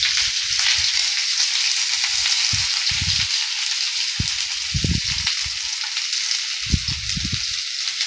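Chopped onion frying in hot oil with dried red chilli and asafoetida for stuffed bitter gourd, a steady loud sizzle running throughout, with low bumps and knocks from stirring scattered through it.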